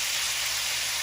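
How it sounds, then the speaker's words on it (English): Chicken meat frying in a pan for quesadillas gives off a steady, even sizzle, a soft hiss that carries on without a break. "So you can let it fry nice"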